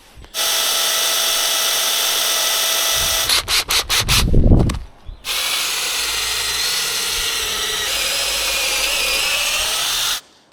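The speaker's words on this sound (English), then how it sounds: "So I've got an 8mm auger bit, and then I'll have to clean it out with a 10mm metal bit" An 8 mm auger bit drills into timber for a backyard swing, producing a loud, steady grinding whir. A mid-clip stretch of stuttering bursts and a deeper churning surge follows before the drilling resumes.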